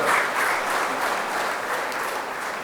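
An audience at a Gujarati talk bursts into sustained applause, a dense, even wash of many hands clapping together, fairly loud and continuous for a few seconds.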